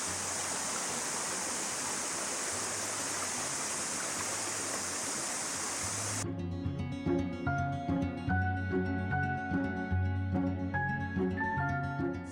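The Pelorus River stream flows with a steady, loud rushing hiss for about six seconds, then cuts off abruptly as music takes over.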